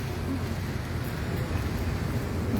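Steady rain falling at a seaside pier, a dense continuous hiss with a low rumbling undertone, heard close and without voices for the few seconds.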